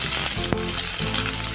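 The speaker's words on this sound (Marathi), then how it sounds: "आता आपण यामध्ये कट केलेला कांदा घालूया" Chopped onion goes into hot oil in a pan while making a gravy for a fresh pigeon pea curry, giving a loud, continuous sizzle with a sharp clink near the start and no talking.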